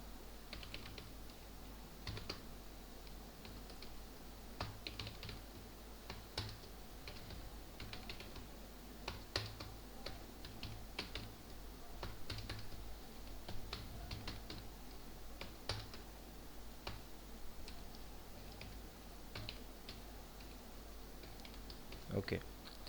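Rapid, irregular clicking of a computer keyboard as HTML code is typed, with sharp keystroke taps over a low steady hum, continuous throughout.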